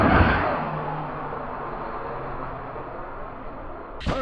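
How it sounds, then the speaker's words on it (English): A Kraton RC car driving with loudly whining gears: a thin, continuous mechanical whine and motor drone, strongest at the start then steady at moderate level, ending with a brief sharp clatter. "These gears are so loud."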